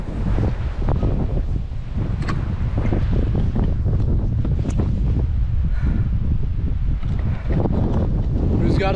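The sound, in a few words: strong wind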